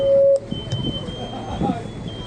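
A smoke alarm sounds one loud, steady beep during a fire demonstration at a fire engine rally. The beep cuts off after a moment, and people then talk over background noise.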